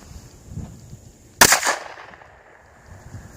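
A single pistol shot is fired at a target at a range. One sharp, loud crack rings out, followed by a short decaying echo, with quiet background before and after.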